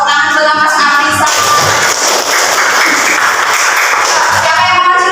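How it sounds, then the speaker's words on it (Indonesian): Loud applause from a classroom audience for a quiz participant, dense clapping that swells and holds steady throughout, close and filling the room. "Tepuk tangan buat Mas Afisa."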